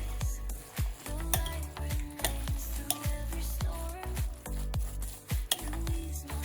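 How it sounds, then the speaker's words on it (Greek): A spoon stirs a vegan burger patty mixture in a bowl, making repeated close scrapes and clinks in an uneven rhythm against the container. "Ανακατεύω."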